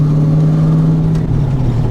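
A high-torque 306 engine pulls a car steadily in third gear at low speed, a loud continuous low hum with a slight pitch shift partway through, no voices.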